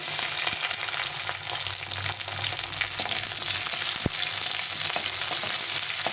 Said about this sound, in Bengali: এখানে এই তেলে আমি একটু ক্যাপসিকামগুলো একটু হালকা করে একটু ভেজে নেব।